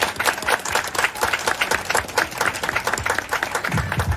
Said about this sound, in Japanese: 感謝の気持ちを込めて、私と一緒に拍手をしていただけないかと思います。